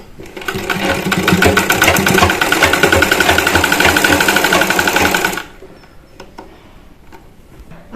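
A sewing machine stitches a side seam on fabric for a baby panty, a fast loud rhythmic whirring chatter that runs for about five seconds, then stops abruptly and leaves near silence.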